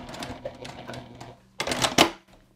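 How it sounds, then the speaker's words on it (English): A sewing machine running a short back stitch on a fabric book sleeve, a close mechanical rattle that starts and stops, swelling into a louder burst near the end before falling quiet. "I'll do a back stitch"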